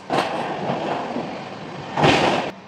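Garib Rath Express, the 12739 Visakhapatnam–Secunderabad train, running along rails at night with a steady rumbling roar that swells louder near the end.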